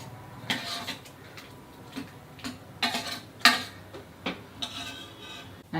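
A spoon stirs mashed pumpkin sabzi in a pan, giving a series of soft scrapes and light metallic taps at an irregular pace, quiet and close, with no talking.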